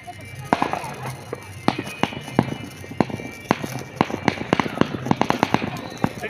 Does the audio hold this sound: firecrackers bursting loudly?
yes